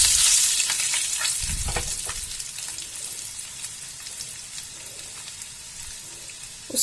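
Chopped garlic cloves and ginger sizzling in hot oil in a pan for shahi paneer, a bright crackling sizzle that starts loud and gradually settles, with a few clinks of stirring, no talk.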